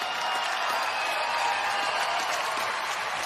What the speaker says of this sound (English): let's have a round of applause for these two warriors